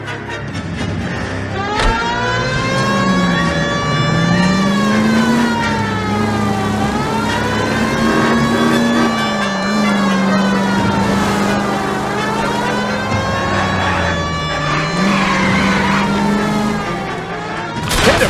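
A car drives through the streets of L.A. Noire while a police siren wails steadily on top of the engine, its rising and falling tone sustained loud and close nearly the whole time, ending in a brief thump.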